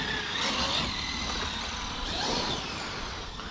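An X-Maxx RC car with a Hobbywing Max 5 1100 KV motor and Mod 1.5 25/30 gearing drives past with a steady, fairly loud whine and rushing tire noise, rising and falling slightly, outdoors and without talk.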